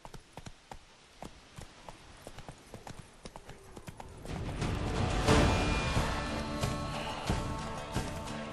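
A horse gallops in the video game Witcher 3: Blood and Wine, its rhythmic hoofbeats starting light and close, then swelling into a louder, rushing run after a few seconds.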